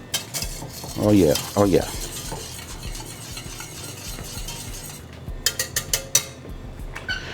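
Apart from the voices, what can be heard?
stirring parsley and thyme into chicken pot pie filling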